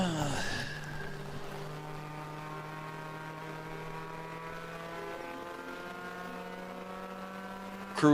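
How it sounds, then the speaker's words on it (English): Sahlen's Porsche race car passing at Watkins Glen during a ChampCar endurance race, with a steady engine drone and rising and falling harmonic tones as it goes by at moderate distance. "There's one of the Sahlen Porsches going by."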